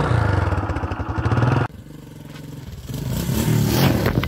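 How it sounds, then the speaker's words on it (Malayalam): A Suzuki Fiero 150 motorcycle with its stock silencer runs close by, a loud throbbing idle that cuts off sharply, then returns as a rising rev with some mechanical clatter. "സ്റ്റോക്ക് സൈലൻസർ എന്നുള്ള സൗണ്ട് കിടുവാണ്"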